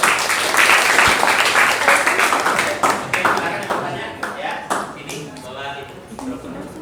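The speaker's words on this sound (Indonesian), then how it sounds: "Ya, kasih tepuk tangan dulu." Classroom applause after a student group's presentation at a high school, a burst of clapping that thins out into scattered claps while voices talk over it.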